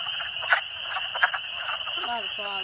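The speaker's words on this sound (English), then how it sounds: "A lot of frogs and a lot of salamanders." Frogs call from a vernal pool in Westfield, Massachusetts, where salamanders are spawning: a steady high trill holds throughout, with a few louder croaks and pulsed calls rising above it, fairly close.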